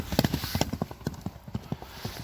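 Horse hooves clip-clop in a quick, steady rhythm of sharp close knocks over about two seconds, set against faint outdoor background noise.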